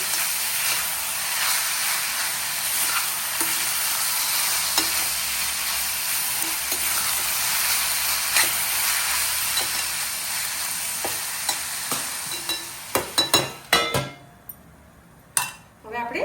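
Makhana and potato khichdi, a fasting dish, sizzles steadily in ghee while being stirred, a loud constant frying hiss with scraping strokes, then a few sharp utensil knocks near the end as the sizzle drops away.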